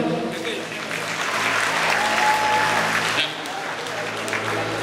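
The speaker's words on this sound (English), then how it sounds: "So I'd like everybody to applaud one more time for me." Loud, continuous audience applause at a hypnosis show at the Dreams Punta Cana resort: dense clapping from a large crowd holds steady for the whole stretch without a break.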